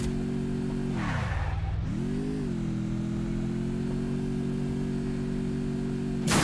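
Motorcycle engine in the mobile battle game Free Fire, a steady mid-pitched drone that dips sharply and swells back up, as if easing off and revving again, then holds level to the end.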